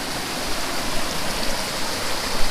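Flash-flood water pours and churns at a hydroelectric intake standpipe, a dense, constant rushing roar heard up close and loud throughout, with no talking.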